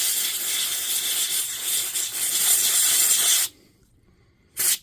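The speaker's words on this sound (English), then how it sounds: "we use this stuff, electrical contact cleaner" Electrical contact cleaner is sprayed from an aerosol can into a Dewalt nailer: a loud, steady hiss for about three and a half seconds, a brief quiet gap, then one short final burst.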